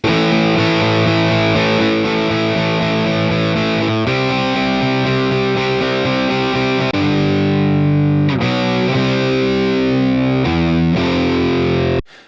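Heavy distorted electric guitar with humbucker pickups through a rectifier amp plays thick, dark chords and riffs continuously, loud and saturated, ending with a sudden cutoff.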